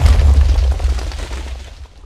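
Cannon shot in a pirate battle video game, one deep loud boom at the start that rumbles and fades away over about two seconds.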